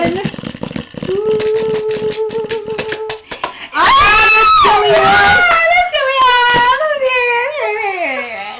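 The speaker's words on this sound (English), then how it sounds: "Not you screaming like you won Princess Hot Take or something" A person screams loudly in excitement at a food-judging table, a long wavering high-pitched cry that rises and falls and follows a few seconds of quieter talking.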